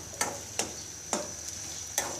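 A spoon strikes and scrapes a pan in a few spaced strokes over a steady soft sizzle while spiced brain masala cooks and fresh coriander goes in, close and moderately quiet, with no talk.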